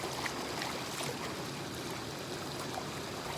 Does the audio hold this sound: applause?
no